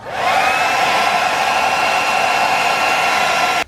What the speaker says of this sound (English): use a blow dryer to soften up the plastic and vinyl